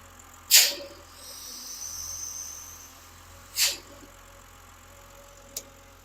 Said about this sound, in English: if you remove the oil cap with the engine running, there's a lot of vacuum and it's audible